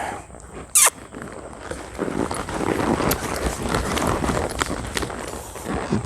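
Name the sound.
horse loping hoofbeats in arena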